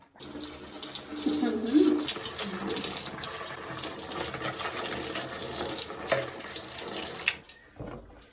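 Running tap water in a bathroom sink as air conditioner filters are washed and rubbed: a loud, continuous splashing stream with shifting gurgles and scrubbing, stopping abruptly near the end.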